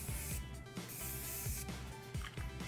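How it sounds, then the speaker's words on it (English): Christoph hairspray is given a light spray over freshly curled beachy-wave hair: quiet, short hissing bursts of aerosol over a soft background. "We're gonna take our Christoph hairspray and give it a nice light spray."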